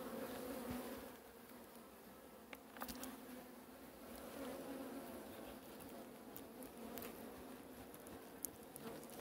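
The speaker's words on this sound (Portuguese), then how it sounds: "a abelha aqui não tá agressiva, não" Honey bees buzz around an opened hive heavy with old honeycomb, a faint, steady, close drone with a few light taps and no talking.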